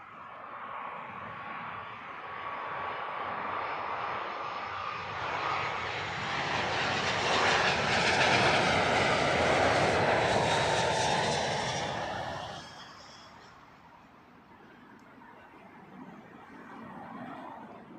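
A British Airways Airbus A319-100 arriving from Belfast at Heathrow swells from a distant engine whine to a loud roaring pass, then fades away, heard alone without speech.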